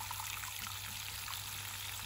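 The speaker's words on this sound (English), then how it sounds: "These, we fill them up with water." Water trickles and pours steadily into self-watering plant pots for chili plants, a soft continuous wash of liquid at close range with no talking.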